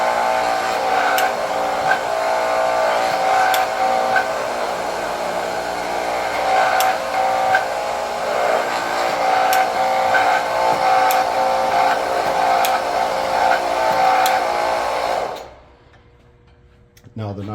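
A hydraulic torque wrench driven by a pump keeps up a steady mechanical whir with regular ticking ratchet clicks as it strokes and resets on a nut, loud and continuous, then cuts off abruptly near the end.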